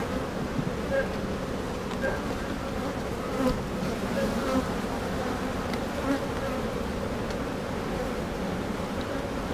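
Honeybees buzz steadily around an open hive during an inspection, a dense, close, continuous hum with a few louder passes, and a person talks quietly over it.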